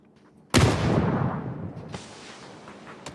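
Grenade explosion in PUBG during an esports match: one sudden loud boom with a long rumbling decay, followed by faint hissing noise.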